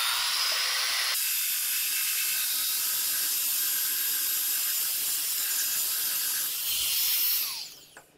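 A Wen band file sander grinds into wood with a loud, continuous hissing rasp that runs steadily for about seven seconds before the motor cuts off and spins down.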